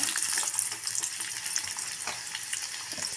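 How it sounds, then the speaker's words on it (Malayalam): Steady sizzling of onions frying in hot oil, a continuous crackling hiss close up with no talking. "എണ്ണ നല്ല ചൂടായിട്ടുണ്ടെങ്കിൽ നമുക്ക് ഉള്ളി ഇടാം കേട്ടോ"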